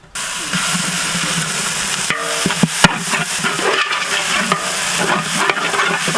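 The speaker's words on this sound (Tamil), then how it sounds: "இப்போ மிளகாய்த்தூள் 50 கிராம், இஞ்சி பூண்டு பேஸ்ட் சமமா அரைச்சது ஒரு 800 கிராம் இதுல போட்டுக்கலாம்." Chili powder and ginger-garlic paste frying with onions for a whole-goat mutton biryani, a loud steady sizzle with stirring scrapes and clinks of a ladle throughout.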